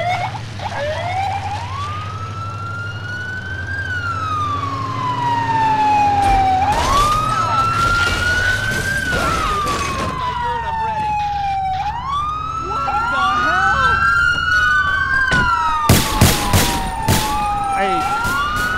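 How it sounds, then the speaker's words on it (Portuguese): Police sirens wail through a chase in GTA San Andreas, a loud rising-and-falling electronic tone cycling repeatedly over a low engine rumble, with sharp bursts of crashes or gunfire near the end. "O áudio da polícia, sirene,"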